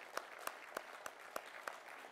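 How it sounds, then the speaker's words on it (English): Faint audience applause at a hybrid defense industry panel event, honoring a colonel and his team, with sharp individual claps standing out at a steady rhythm over a soft wash of clapping. "how about a round of applause for Colonel Lee and his team?"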